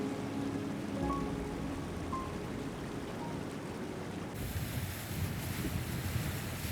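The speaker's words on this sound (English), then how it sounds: "Sailing out of Tasermiut Fjord feels bittersweet." A boat sails out of Tasermiut Fjord in Greenland, with a steady rush of wind and waves that swells louder and brighter partway through, and no voices.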